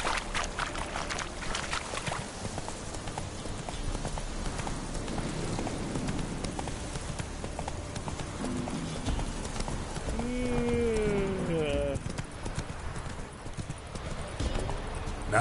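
Hoofbeats of Roach, Geralt's horse in the video game The Witcher 3: Wild Hunt, clip-clopping steadily for the whole stretch under game ambience, with a short whinny-like tonal cry near the end and a voice speaking.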